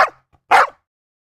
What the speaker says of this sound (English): if anyone provokes a stray dog, it starts barking.